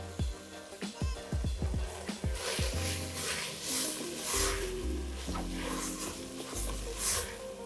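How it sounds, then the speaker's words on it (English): Ground beef cooking down in a pot while it is broken apart with a utensil, then beans tipped in: steady close sizzle and bubbling with scraping strokes and wet thuds, no talking. "I'm breaking apart the ground beef as it's cooking down as well"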